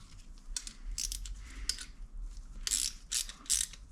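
Brake pipe flaring tool clamp being tightened on a Land Rover Discovery 3 brake pipe, giving a series of close, crisp ratcheting clicks in short bursts against a quiet background.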